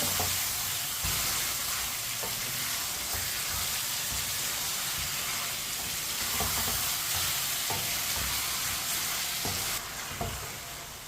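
Chicken pieces frying in a pan, a steady broadband sizzle running nonstop with occasional soft stirring knocks, close and fairly loud, no voices.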